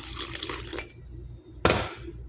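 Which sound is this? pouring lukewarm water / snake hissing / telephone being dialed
pouring lukewarm water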